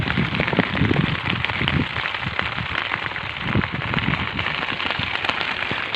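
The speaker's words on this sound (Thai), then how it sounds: "ฝนตกหนักมากครับ" Heavy rain pours down steadily and loudly close by during a fishing outing at a flooding waterside, a dense, continuous hiss and patter with no voices.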